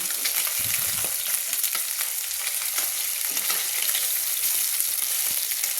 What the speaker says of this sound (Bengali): মাছগুলো আমি অপর পিঠ ভেজে নেব